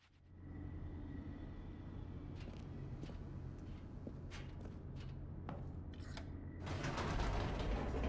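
An elevator descends in The Stanley Parable with a continuous mechanical rumble, scattered clanks, creaks and ratcheting clicks, swelling louder toward the end.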